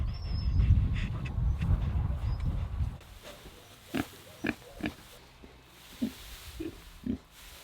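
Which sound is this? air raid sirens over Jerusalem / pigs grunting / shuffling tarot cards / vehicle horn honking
pigs grunting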